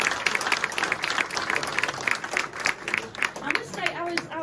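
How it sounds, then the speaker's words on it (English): An audience at a press conference for an Aces versus Wolves match breaks into sustained applause, dense clapping filling the room for several seconds. "let's have a massive round of applause for Jake Morford"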